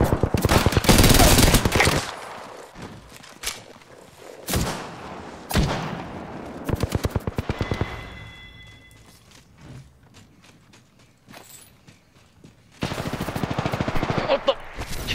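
Bursts of automatic gunfire in a ranked match of the shooter Apex Legends, with several loud, rapid volleys at the start, scattered single shots in the middle, and another close, sustained burst near the end.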